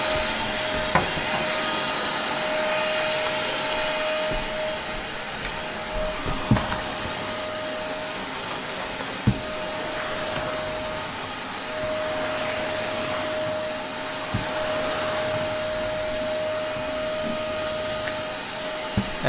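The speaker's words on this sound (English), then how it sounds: "Should work better with the vacuum cleaner." A vacuum cleaner sucks straw out of a grain dryer with a loud, steady whining roar and a constant high tone, broken by occasional knocks and rattles of debris.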